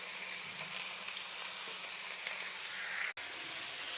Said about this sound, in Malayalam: ഇനി ഈ ചീഞ്ചട്ടിയിലേക്ക് നമുക്ക് എല്ലാ വെജിറ്റബിൾസും ഓരോന്നോരോന്നായിട്ടൊന്ന് ഇട്ട് കൊടുക്കണ്ട